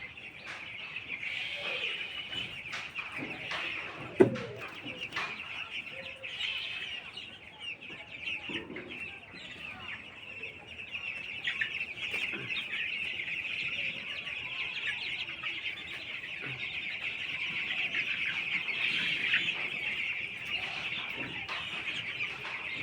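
Chickens clucking softly and steadily while being given water, a continuous close murmur with a sharp knock near the start, with no talking.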